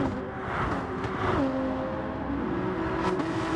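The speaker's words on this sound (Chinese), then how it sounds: "加速一下吧。" A Gr.3 race car accelerating on the Tokyo Expressway Central Outer Loop in Gran Turismo Sport, engine droning steadily with a rising then shifting whine, close and continuous with no pauses.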